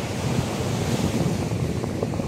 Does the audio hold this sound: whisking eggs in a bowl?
no